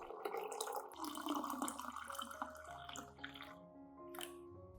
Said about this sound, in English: Finally, add 500 milliliters of boiling water.